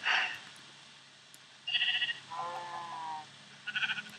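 Cows in a Minecraft pen give short synthetic moos and bleat-like calls in a few separate bursts over a steady, quiet game background.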